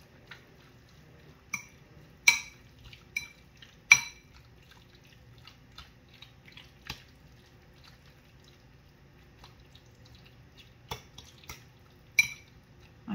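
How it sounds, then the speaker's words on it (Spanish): Raw chicken breasts stirred in a bowl, giving sparse, close clinks and wet taps of utensil against the dish, several sharp ones standing out in an otherwise quiet kitchen. "Lo vamos a revolver muy bien."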